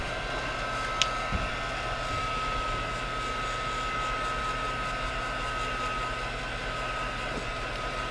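A hair dryer blows steadily on wet acrylic paint in an art journal, a constant airy roar that stays loud and unbroken throughout, with no voices.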